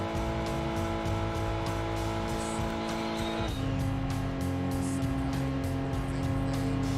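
A midget race car engine in Gran Turismo 2 holding a high, buzzing drone under strain, pitch stepping at a gear change partway through, loud and constant without speech.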